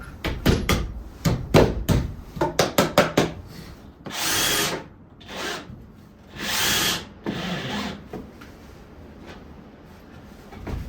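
A power drill drives screws into 2x4 attic ladder headers in two loud, close whirring bursts, with wooden knocks and handling noise before them.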